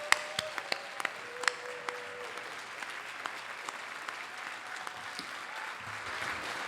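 A crowd at a community appreciation celebration applauds neighborhood volunteers with steady, moderately distant clapping that holds for the whole stretch, a few sharper claps standing out near the start, and no talking.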